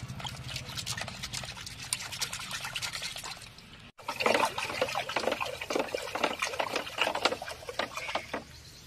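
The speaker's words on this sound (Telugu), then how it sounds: "ఇంకా నీళ్ళు నీళ్ళు పోయి, ఇందులో నీళ్ళు పోయి." Water is poured into a container to mix a homemade plant fertilizer with buttermilk and asafoetida, a close, steady splashing trickle with a brief break midway before the pouring resumes more strongly.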